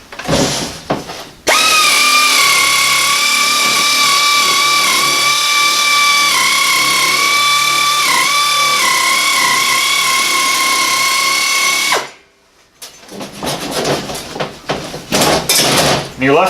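Pneumatic sheet metal shears cut through sheet metal with a loud, steady high-pitched whine and grinding buzz lasting about ten seconds, then cut off abruptly, followed by rattling handling noises.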